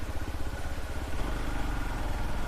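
A motorcycle on a rough, damaged road, its engine running with a steady low, rumbling throb close by. No one speaks.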